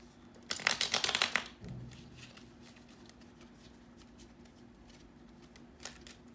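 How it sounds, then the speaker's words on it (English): A deck of playing cards is riffled and shuffled close by in a quiet room, a quick burst of crisp flapping riffles lasting about a second, followed by soft handling sounds and one faint snap. "let me get some of these cards out"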